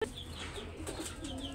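Chickens kept among other poultry in a yard in Kuwait give soft, scattered clucks and short calls, faint and somewhat distant over a low background hum.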